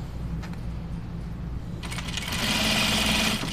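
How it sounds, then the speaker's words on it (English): A sewing machine stitches a Lucerne blouse, starting from the sleeve edge. There is a soft hum at first, then a louder, steady whirring run of stitching near the end. "I'm actually gonna stitch starting from the sleeve edge here"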